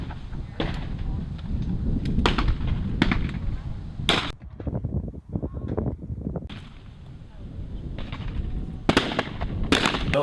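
Shotgun shots at clay targets on a sporting course, high and low birds; several sharp loud reports spaced a few seconds apart over outdoor background noise, with one pair of shots close together near the end.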